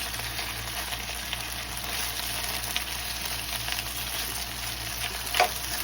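Chicken breast stir-fries in a pan, giving a steady, even sizzle with a faint low hum beneath and one brief scrape of stirring near the end.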